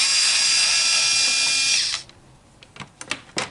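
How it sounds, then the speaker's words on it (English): A power screwdriver whirs steadily for about two seconds while backing a screw out of a Linkimals otter toy, then stops, followed by a few light clicks and taps of handling. "Grab the screwdriver and remove this screw here."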